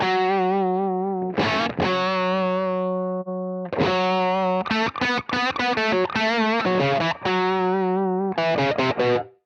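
Electric guitar through a Universal Audio Lion '68 amp plugin plays distorted chords and riffs with short choppy muted ghost notes between sustained strums, loud and close, alone with no talking.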